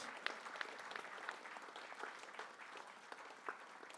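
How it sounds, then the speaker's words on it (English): Applause from an audience at an inaugural function, a steady patter of many hands clapping throughout, moderately distant and fairly quiet, with no talk over it. "Round of applause."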